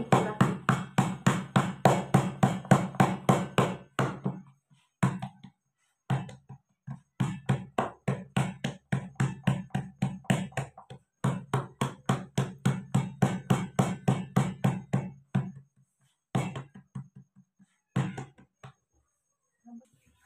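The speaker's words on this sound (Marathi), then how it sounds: "थोडा हाताला पण पीठ लावून घ्यायचं आणि थापायला घ्यायची भाकरी" Bajra (pearl millet) flatbread dough being patted into a round by hand in a village kitchen, giving fast rhythmic slapping bursts in runs separated by short pauses, close and fairly loud.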